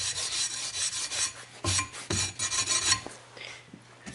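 Rubber abrasive block scrubbing rust off the edge of a garden tool, a steady raspy rubbing in repeated strokes, close and fairly loud, with no talking.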